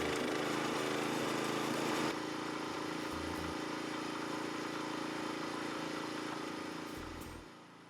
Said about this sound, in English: the concrete footings have to be set at 48 inches into the ground, so the auger and the extension must be used.